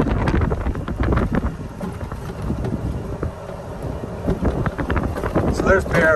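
Strong wind gusts across a golf course in Big Bear, buffeting the microphone with continuous low rumble and roaring surges, with voices talking faintly over it.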